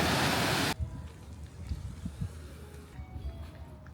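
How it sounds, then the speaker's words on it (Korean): Strong sea waves roll onto a small sandy beach in Yonago, Japan, starting with a loud close burst of surf or wind buffeting that cuts off. Softer churning water and low rumbles follow without speech. "우와 파도가 세요 그리고 깊어 보여"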